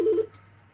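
A single short electronic telephone tone, loud and close, sounds for a fraction of a second and then fades into quiet room ambience.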